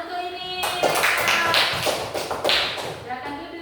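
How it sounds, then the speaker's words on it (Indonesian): Scattered clapping from a small classroom group of students, a few seconds of uneven hand claps and taps at moderate volume with faint room shuffling. "Sudah jelas, tepuk tangan untuk ini."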